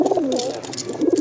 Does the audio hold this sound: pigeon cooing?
yes